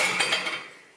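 Dishes are loaded into a home dishwasher, giving a bright clatter of crockery and cutlery with a couple of close clinks that fade out within a second, with no talking.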